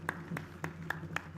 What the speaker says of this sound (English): A round of applause in celebration of their tireless work.